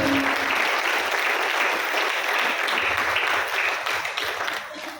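Sustained applause from an audience at a Hindi health talk, a thick continuous clatter of many hands that stays loud throughout and eases slightly near the close, with no talk over it.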